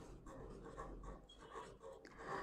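Chalk or pen writing during a mineral nutrition biology lecture, with soft, irregular scratching strokes in short bursts and pauses, close and quiet in a room.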